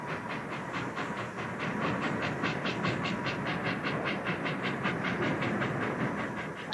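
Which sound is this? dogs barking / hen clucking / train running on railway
train running on railway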